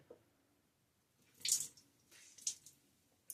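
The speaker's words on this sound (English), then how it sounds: "but now I'm dipping it into clean water" A natural-bristle shaving brush is dipped into a container of clean water and squeezed, giving a few brief soft splashes and drips close by in a quiet room.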